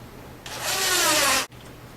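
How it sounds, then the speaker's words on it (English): A drill driving a 1-inch flathead screw into a pre-drilled hole in a wood cabinet side panel, one steady grinding whir of about a second that cuts off abruptly, close by with no talking. "drill right into our pre-drilled holes"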